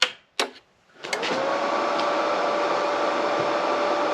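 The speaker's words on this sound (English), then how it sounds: "So now we're going to turn the machine on." A Hynade MIG145FX welder is switched on, with a couple of clicks followed by a steady, loud electrical hum and whir from its fan that continues unbroken.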